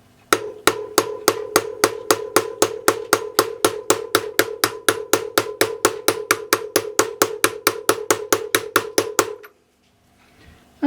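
A wheel bearing is driven in with a hammer striking a 23mm socket, about forty sharp metallic blows in steady even rhythm, close and clear, ending in near silence.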